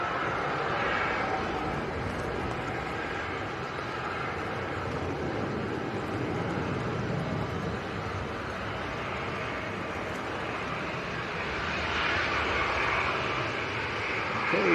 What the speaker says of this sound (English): Ryanair coming towards us with the bright lights on